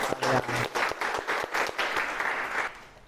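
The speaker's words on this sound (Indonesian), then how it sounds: "Oke, tepuk tangan untuk kalian." A small group of participants claps in a classroom coaching session, with separate claps at first that gather into brief applause and then fade out. A voice is faintly audible at the start.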